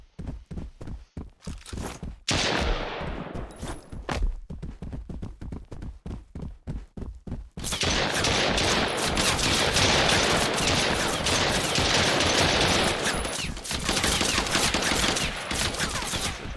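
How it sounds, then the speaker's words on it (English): Machine gun fire in a first-person video game: a few seconds of scattered single shots and footsteps, then a sustained loud burst of continuous automatic fire that rattles on through the rest, with no voices. "now I have a machine gun"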